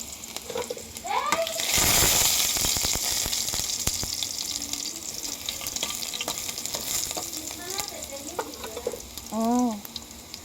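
Garlic sizzles and crackles in hot oil, loud at first and then settling to a softer hiss. Brief voices come in near the end.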